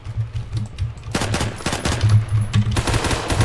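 SKS rifle fire in the Phantom Forces video game: a rapid burst of loud, close gunshots in quick succession over a low rumbling game background, with no talk.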